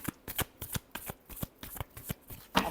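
Tarot cards riffled and shuffled by hand in a steady run of about a dozen crisp, close ruffling bursts with no talking.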